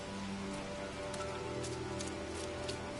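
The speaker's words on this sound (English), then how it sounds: "It's pretty much always going to be raining here." Steady, dense rain falls across a desolate planet in a PlayStation 4 video game, a continuous hiss of drops hitting surfaces with a faint low hum beneath, evenly loud throughout with no one talking.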